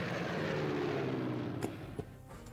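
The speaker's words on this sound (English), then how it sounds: "I'm going to see if I can do any more attack runs or bombing runs." Aircraft engines drone steadily during an attack or bombing run in the World War II strategy game SC WW2 War in Europe, set in the invasion of Poland, with two sharp clicks near the end as the drone fades.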